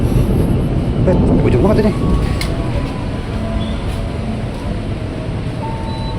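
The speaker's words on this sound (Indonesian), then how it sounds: "kita dapat KRL Inka juga yang bakal masuk ke jalur 2" An Indonesian-made INKA KRL commuter train rumbles into platform 2 at a station, a steady, loud low roar with some squeal. Someone speaks over it.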